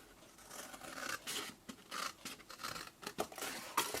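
Scissors snip through material in a series of short, irregular cuts, each a quick crisp scratch, close and fairly quiet, with small handling rustles between the strokes and no voices.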